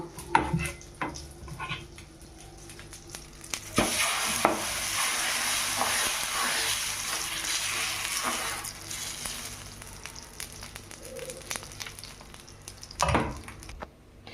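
Ragi and wheat dosa batter frying on a pan, a soft steady sizzle that swells midway, with scattered scrapes and clinks of utensils, close and fairly quiet.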